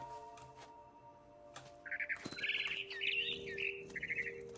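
A scared bird in a cat video game chirps in quick, bright bursts, fairly close and moderately loud, after a few soft clicks and a short thud.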